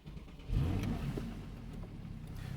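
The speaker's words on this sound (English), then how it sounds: "directly you get that burble as soon as you start it up" A Porsche 911 Targa 4S with a 3.8-litre naturally aspirated engine fires up, a low burbling rumble rising after a brief start and settling into a steady close idle, with no talking.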